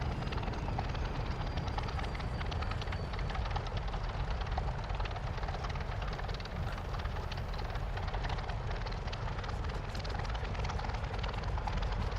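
A P-40F Warhawk fighter's piston engine in Microsoft Flight Simulator drones in a steady, loud, rumbling roar with a fast pulsing throb, unbroken for the whole stretch with no talking.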